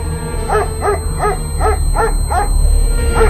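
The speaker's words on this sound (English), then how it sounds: "Call off your damn dog." A dog barks in a steady series of about seven sharp, evenly spaced barks, close and loud over a low constant background hum.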